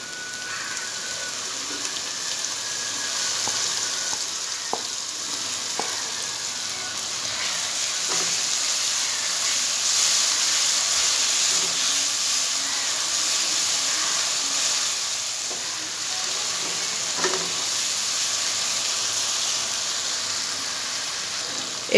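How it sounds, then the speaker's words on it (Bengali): Tomato paste for masala chicken sizzles steadily in a pan, a continuous close frying hiss with faint stirring clicks and no voices. "এবার এর মধ্যে দিয়ে দেবো টমেটো পেস্ট"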